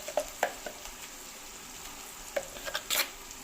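Bitter gourd pieces frying in a pan are stirred, giving a low steady sizzle with a few sharp scraping clicks near the start and a louder cluster near the end, close up and with no talking.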